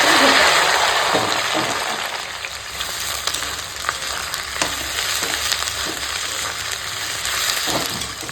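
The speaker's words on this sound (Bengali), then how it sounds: "তেলেই এখন তেজপাতা করে দিলাম আর দিয়ে দেবো কেটে রাখা পেঁয়াজ" Onions and bay leaf frying in hot oil, a dense close sizzle that starts loud and eases slightly, broken by occasional stirring clicks and scrapes, with no voices.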